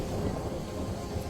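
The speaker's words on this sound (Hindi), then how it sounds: "तभी आसमान में एक जोरों की बिजली कड़की।" Thunder in a cartoon rainstorm, a short, dense, loud rumbling crack with rain-like hiss, lasting just over a second.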